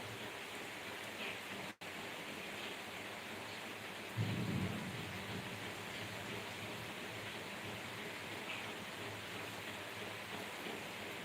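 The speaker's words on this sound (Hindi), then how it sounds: "एकदम जोरदार बारिश हो रही है।" Steady heavy rain pours as a dense, continuous hiss, with a brief low rumble partway through and no voices.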